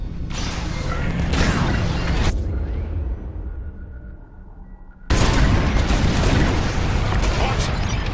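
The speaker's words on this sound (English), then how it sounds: "On my mark, it's bombs away." Bombing run in Star Wars: Squadrons, with dense, loud explosive booms and rumbling from the starfighter attack, then a brief lull before another heavy burst of blasts. A voice speaks over the opening.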